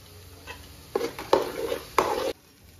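A spoon scrapes and stirs thick chilli sauce masala in a pan, a few short bursts of clattering and sizzling close by, with no talk.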